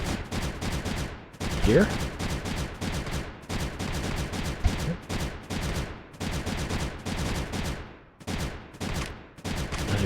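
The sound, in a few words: guns firing in the video game Creeper World 3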